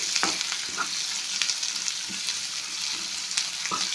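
Onions frying in a pan for North Karnataka stuffed brinjal (yennegayi badanekaayi), a steady close sizzle with a few soft stirring knocks, no talk.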